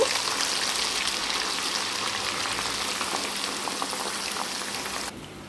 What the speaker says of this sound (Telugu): ఇప్పుడైతే బాండీలో ఆయిల్ హీట్ పెట్టుకున్నాను ఇందాక మనం రెడీ చేసి పెట్టుకున్నాం కదా దొండకాయలు అవి వేయండి